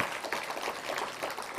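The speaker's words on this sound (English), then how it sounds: "A big round of applause." An event audience gives a round of applause, a dense, even wash of many hands clapping throughout the short stretch, with no speech over it.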